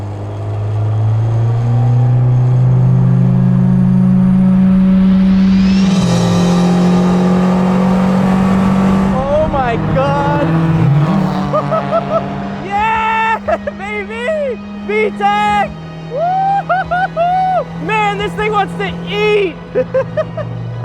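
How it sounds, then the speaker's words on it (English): A Spoon Honda Civic race car at Fuji Speedway, a loud, close engine drone climbing in pitch, then shifting down and easing off, with people talking over the engine noise. "I'm about to drive the BBL Civic at Fuji Speedway."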